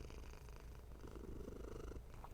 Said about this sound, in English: He has a very loud purr.